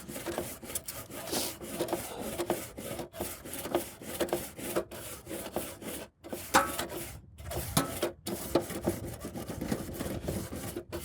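A metal scraper works crusty, burnt-on residue off a grill grate, a close, continuous rough scratching in quick uneven strokes with a few brief gaps, heard alone.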